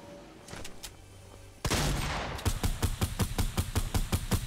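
Gunfire in the Fortnite video game: a sudden loud shot, then a fast run of rhythmic rapid-fire bursts close by, with no talking.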